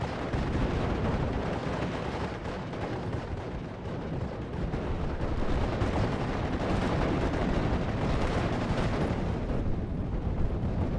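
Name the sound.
artillery fire in video game Steel Division 44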